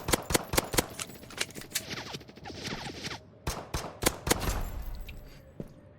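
Rapid gunfire in Fortnite: loud, close bursts of automatic shots in quick succession, with brief pauses between volleys and no speech.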